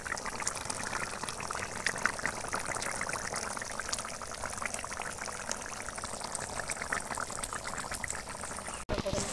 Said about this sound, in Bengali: গরম জল দিলে দেখুন বন্ধুরা একদম পুরো টকবক করে ফুটছে, তরকারিটা একদম প্রায় হয়ে এসছে।